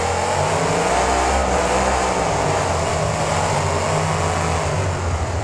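Monster truck engines in the BeamNG racing game roar loudly and steadily as the trucks launch off the starting line in a stadium, with continuous revving and no speech.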